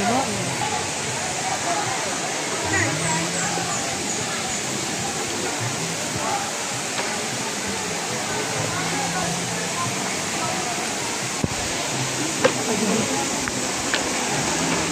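Daranak Falls running low in summer, a steady broadband rush of falling water fills the scene, with crowd voices and talk mixed faintly underneath.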